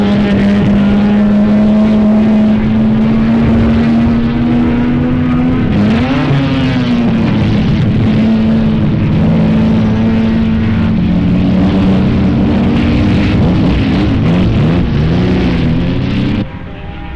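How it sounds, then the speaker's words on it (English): A 1979 Mazda RX-7 race car with a 12A rotary engine roars up close, its buzzing exhaust note holding long sustained pitches that climb and dip with the throttle before cutting off near the end. "The 2 RX-7s run with an unmistakable exhaust sound, a roar that seems to affirm the confidence of the rotary engine designers."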